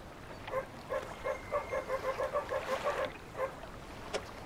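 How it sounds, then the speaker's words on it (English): A dog character in a spooky sailing video game barks in a rapid run of about a dozen short yaps over a low background rumble, then one last yap, with no talking. "He just barks when you select and deselect him."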